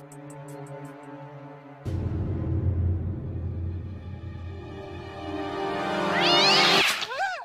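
A cat being soaked with water: a sudden rush of spraying water runs steadily for several seconds, then ends with a loud, wavering, complaining meow.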